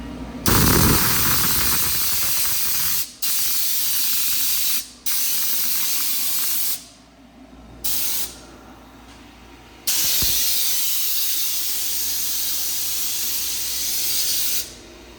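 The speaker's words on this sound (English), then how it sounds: "I'm just spraying out this vent area down here." Loud hissing bursts of compressed air from an air compressor spraying out a vent close by, several long blasts separated by brief pauses, with a short sputtering gap midway.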